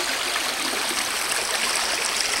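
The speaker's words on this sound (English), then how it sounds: "So this is Fall Branch making its way down to the South Fork Cumberland River" Fall Branch, a forest stream near its confluence with the South Fork Cumberland River, rushes in a steady, loud, broadband wash of flowing water with no pauses and no voices.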